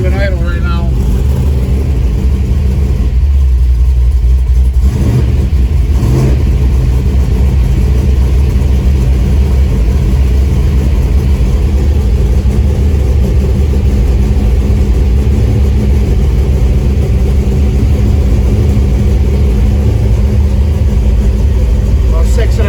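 A cold 1971 El Camino Super Sport engine runs steadily with a low, rough rumble that stays loud and close throughout, with a voice briefly heard over it.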